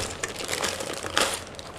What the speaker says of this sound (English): And let's unwrap the plastic.